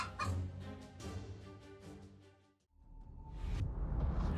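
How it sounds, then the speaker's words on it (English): A domestic hen attacking a cobra to protect her chicks: loud, close clucking and agitated fowl calls in bursts, with a brief lull midway before a harsh rustling flurry resumes. "the chicken didn't inquire about the purpose of the visit and boldly launched an attack to protect its brood"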